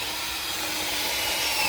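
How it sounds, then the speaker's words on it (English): A battery-operated drill bores into material while work is under way on a shallow water well, giving a steady, close, unbroken whirring grind that lasts a couple of seconds with no voices. "So I'm drilling them out."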